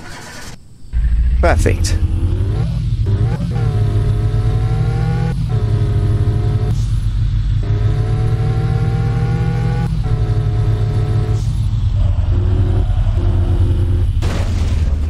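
A car engine in Car For Sale Simulator 2023 catches after a sharp start-up burst, then runs loud and steady with repeated revs rising and falling. A voice speaks briefly near the start.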